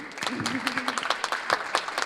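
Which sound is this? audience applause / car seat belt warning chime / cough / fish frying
audience applause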